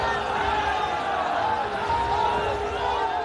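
A dense crowd mills at Amit Shah's road show in Bolpur, Birbhum, West Bengal, a steady roar of many voices and shouts, loud and continuous throughout.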